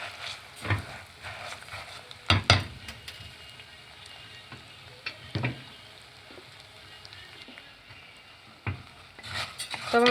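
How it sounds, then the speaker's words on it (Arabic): Orzo pasta being stirred in ghee in a pot, a soft frying crackle under scattered spoon scrapes and knocks against the pot, close and irregular. "حطينا كده ايه كيس ونص بتاع لسان العصفور، تمام. تعالوا بقى نقلب مع بعض كويس."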